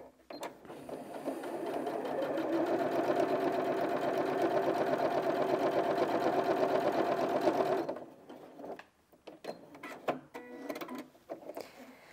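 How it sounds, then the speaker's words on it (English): A Janome 5060 QDC sewing machine stitches through four layers of fabric, a fast steady mechanical whirring and needle chatter for about eight seconds, then stops, leaving a few scattered clicks and handling noises. "you can hear the machine's working slightly harder to penetrate through the density of the layers"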